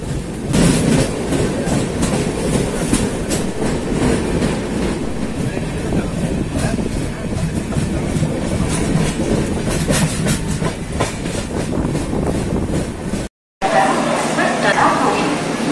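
The 12704 Falaknuma Express rolls along, heard from inside a 3-tier AC sleeper coach as a steady, dense rumble with rhythmic wheel clatter throughout, broken by a brief dropout near the end.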